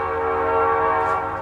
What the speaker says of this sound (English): let me let that train pass.